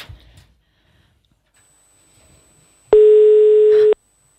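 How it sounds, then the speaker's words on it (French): Telephone dial tone before a prank call: a single steady tone rings out loud and clear for about a second after near silence, with faint shuffling before it. "Non, Yael appelle Charlotte."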